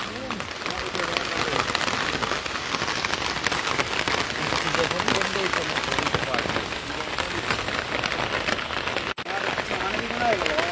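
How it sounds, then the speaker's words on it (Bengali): Heavy rain pouring steadily on surfaces during river flooding near a breached embankment, a dense continuous patter close by with voices talking faintly underneath. "বৃষ্টি হইতেছে"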